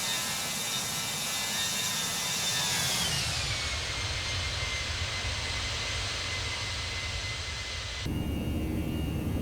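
Landing gear retracting on a Toliss A321 just after takeoff in X-Plane 11, heard inside a steady, loud jet engine roar that drops in pitch partway through, with a sudden tonal shift near the end.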